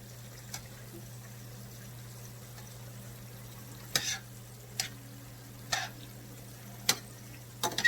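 A seasoned cabbage veggie medley being stirred in a pan, with a few distinct scraping strokes of a utensil spaced a second or so apart over a faint, steady background hum.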